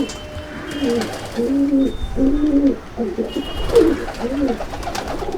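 A young Kaldama pigeon in a loft coos in a steady run of low, rolling calls close by, with no talking.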